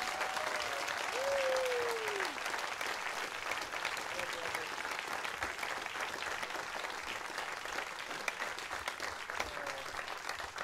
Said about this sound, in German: noch einmal einen Applaus für meine Musiker Bertel Meyer an der Mundharmonika.